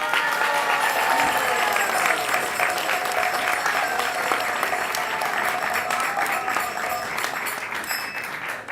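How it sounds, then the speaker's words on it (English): Sustained applause from a large crowd at a Krishna Katha religious talk, a dense, steady clatter of many hands clapping that runs for several seconds and tapers slightly near the end. "go ahead, you can clap your hands."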